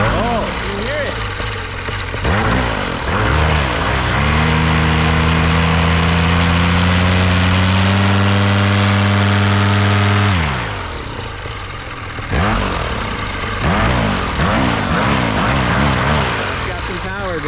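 A paramotor engine warms up at low idle, then revs into a steady loud high-power drone for several seconds before dropping back, heard up close with voices talking over it at times.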